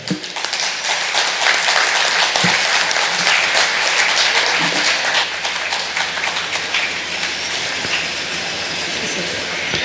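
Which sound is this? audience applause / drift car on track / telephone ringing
audience applause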